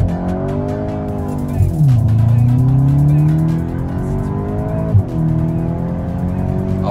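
A Volkswagen Golf 8 GTI Clubsport makes a loud launch-control start, its engine note climbing through rising pitch sweeps with a brief dip at each gear change, heard close from inside the car without talk.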